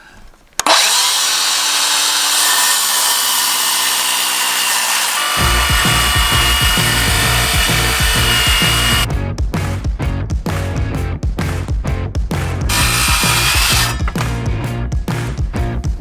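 A handheld power saw cuts through wood for a backyard veggie patch project, running loud and steady from start to finish, with the blade's pitch shifting partway and a rhythmic chatter building as the cut progresses.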